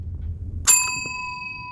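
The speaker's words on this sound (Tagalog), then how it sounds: "Okay, magre-ring na lang ako ng bell." A single bell is struck once, giving a bright metallic ding that rings on with a steady, slowly fading tone above quiet room noise.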